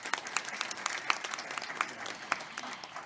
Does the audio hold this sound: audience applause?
yes